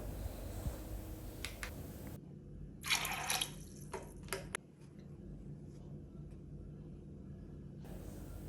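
Water poured from a cup into a pressure cooker holding soaked green gram makes a brief, close splash and trickle, with faint drips after it and no talk.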